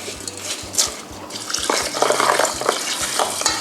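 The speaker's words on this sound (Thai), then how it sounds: "ต่อมาเราจะทำการเติมน้ำค่ะคุณผู้ชม" Plain water being added to a pot of rice for calcium rice, with a steady splashing and trickling pour plus a few light clinks, close and fairly quiet, with no talking.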